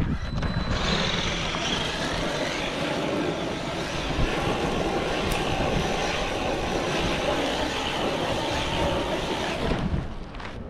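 A Traxxas RC truck spins donuts on dusty dirt, its motor whining at a steady, loud pitch with a constant roar of tires and gravel for about ten seconds.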